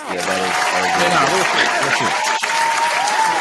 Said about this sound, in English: How do you feel about this long ass applause track?